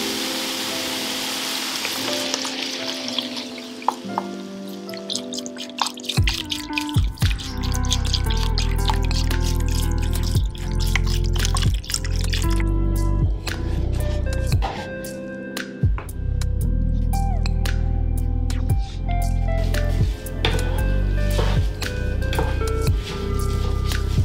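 Vegetable broth pours into a pan, giving a loud, close stream of liquid with drips and bubbling splashes that continues almost without a break, with brief gaps.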